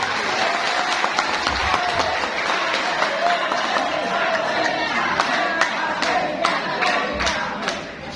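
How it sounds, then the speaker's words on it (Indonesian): A packed hall at an Islamic centre in Bekasi erupts in loud applause and cheering, with a roaring crowd, dense clapping and some shouts throughout, easing slightly at the end. "Tepuk tangan sekali lagi buat semuanya."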